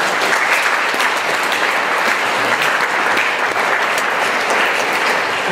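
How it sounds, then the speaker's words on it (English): Steady, loud applause from a lecture audience welcoming a speaker, dense clapping sustained throughout without a break. "It's always good to get the applause up front"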